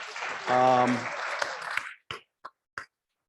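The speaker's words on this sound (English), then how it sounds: "Let's give him a round of applause too." An audience at an evening talk breaks into a short burst of applause that fades into a few scattered last claps, with a voice cheering over the start.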